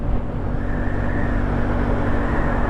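A Benelli TNT motorcycle engine held in fifth gear while riding, a loud continuous low drone mixed with wind rush, steady throughout without talk.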